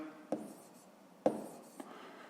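Pen or pencil writing out a fifth-grade decimal subtraction on paper, quiet scratching strokes with two sharper taps, close and alone.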